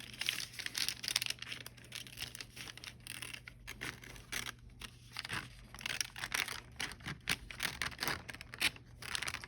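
Sharp scissors cutting out a paper sewing pattern along its outer line in a beginner sewing lesson, steady crisp snipping and paper crinkling throughout, close and continuous with no talk.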